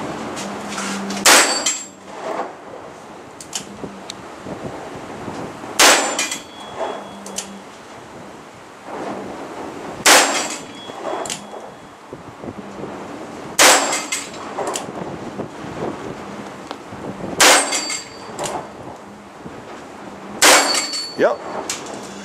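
Gunfire at an outdoor shooting range: six sharp, loud reports spaced a few seconds apart, with people talking quietly between the shots.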